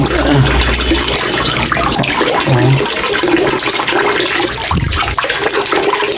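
Steady rushing and splashing of water pouring out of a charcoal water filter's drain, continuous throughout with a brief gurgle near the end, fairly loud and close.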